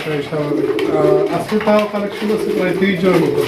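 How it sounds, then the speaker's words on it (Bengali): Raj Golla pigeons coo loudly and continuously, with several birds overlapping in rolling, throaty calls close by. "আজকে কিন্তু প্রত্যেকটা কবুতরই ডাকছে"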